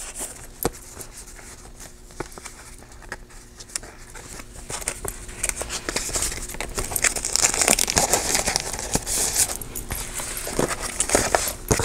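Sheet of planner stickers being handled and peeled at a desk, giving soft crinkling and papery rustles with small ticks, close and quiet, growing somewhat busier toward the end.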